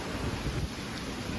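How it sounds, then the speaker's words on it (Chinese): Strong gale sweeping a roadside snack-cart market before a rainstorm, a dense continuous roar of wind buffeting the microphone, loud and unbroken with no talk. "看这大风得有多少级"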